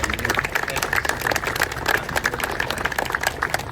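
Scattered clapping from a small group at a QuickTrip store ribbon cutting and grand opening, steady and moderately loud, with dense overlapping claps throughout.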